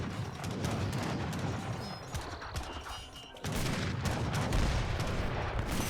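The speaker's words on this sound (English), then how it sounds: "There's the cannons." Cannons and great bombards fire during an Age of Empires 3 battle, a dense, loud barrage of booming shots layered over clattering horse hooves and constant battle noise, with a sharp surge of heavier fire in the second half.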